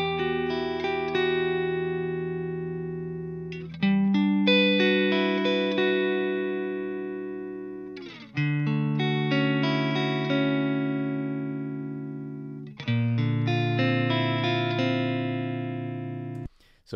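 A dry stereo instrument track with no effects or pedals, playing sustained chords that ring out and decay over several seconds, struck anew roughly every four seconds, close and fairly quiet.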